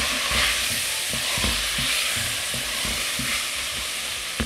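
Garlic gets stirred into a sizzling meat sauce in a pan, steady frying hiss with repeated scraping strokes of a spoon in an even rhythm.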